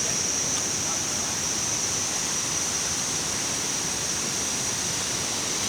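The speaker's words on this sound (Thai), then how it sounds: "น้ำตกตาหัง" Tad Hang waterfall pours in a dense, constant roar of rushing water, loud and close, with an unbroken wash of noise and no voices over it.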